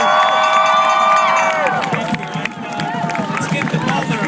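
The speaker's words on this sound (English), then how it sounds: "Let's give George the biggest round of applause for organizing all of this today." An indoor crowd at a community gathering cheers and whoops loudly for George. Sustained high shouts fade into scattered clapping and crowd chatter.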